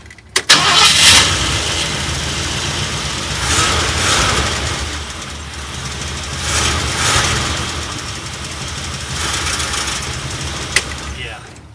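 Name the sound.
old Ford F100 truck engine cranking, trying to start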